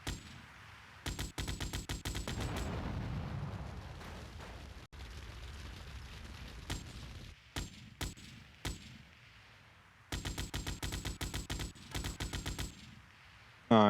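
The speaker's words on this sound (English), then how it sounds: "this is where we get to use a bit of the big gun that we picked up in Phnom Penh" Big-gun fire in Grand Theft Auto: Vice City, loud, rapid automatic bursts broken by short pauses, with booming impacts and crackling explosions over a low game rumble.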